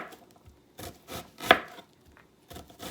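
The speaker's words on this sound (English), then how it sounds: "This is my favorite way to cut an onion now" A kitchen knife chops through an onion on a board in a few separate close strokes, each a short crisp thunk, with one sharper crunchy cut in the middle.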